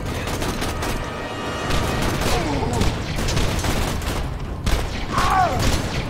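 Rapid bursts of gunfire in Borderlands 2 crackle continuously at close range, with someone talking excitedly over the shooting.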